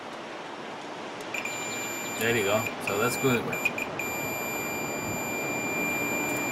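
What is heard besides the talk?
multimeter continuity beep testing dryer door switch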